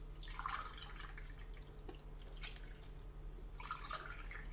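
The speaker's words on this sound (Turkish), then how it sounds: "Bir su bardağı süt, iki su bardağı su ekliyoruz." Milk and water poured into a yeast and sugar mixture for crispy simit dough, a faint liquid pouring and dripping sound in several short gurgling bursts over a steady low hum.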